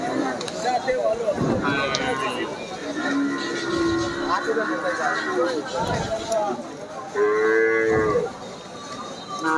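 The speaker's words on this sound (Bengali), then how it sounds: "দেখুন এই পাশে কিছু ছোটো ছোটো গরুগুলো দেখতে পাচ্ছি" Cattle, including desi and Sahiwal breeds, moo repeatedly at a livestock market, several drawn-out calls near and far, over a crowded outdoor din with people talking throughout and occasional hoof clatter.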